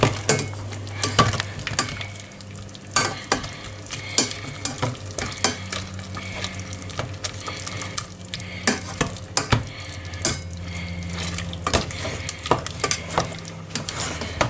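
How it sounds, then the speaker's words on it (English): Food being stirred in a pot of sizzling sauce, with repeated scraping and knocking of a utensil against the pot in an uneven rhythm over a continuous close frying sizzle. "Now give that a stir"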